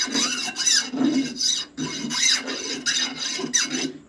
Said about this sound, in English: I like to take the burrs off